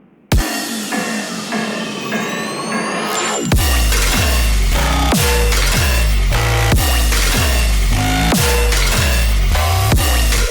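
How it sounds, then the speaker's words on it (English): Extremely slow, heavy dubstep drop: a rising riser builds, then massive sub-bass hits and distorted wobbling bass land on a slow, pounding beat, loud and dense throughout with no voices. "Today I'm going to show you how you can make extremely slow and heavy dubstep like"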